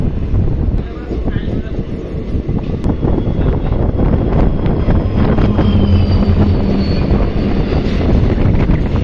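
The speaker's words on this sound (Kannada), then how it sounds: "ಗೂಡ್ಸ್ ಗಾಡಿ ಕ್ರಾಸ್ ಆಗಾಕತ್ತಿತ್ತ" A goods train crossing at a closed railway gate makes a steady, loud rumble with rattling and clanking, heard up close from a passing DEMU express, with wind buffeting the microphone and voices talking over it.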